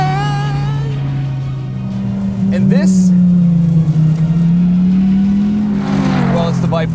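A Dodge Viper ACR engine drones steadily nearby, its low rumble rising as it revs up, with a person speaking briefly over it.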